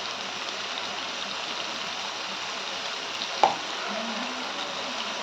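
Spices sizzling steadily in hot oil with ginger garlic paste for a tomato pulao, a soft even hiss throughout broken by one brief sharp crackle, no voices.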